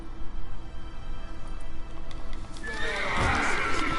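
A horse in The Witcher 3: Wild Hunt whinnies loudly and close in the final second and a half, over steady hoof clatter and game ambience that run through the whole stretch.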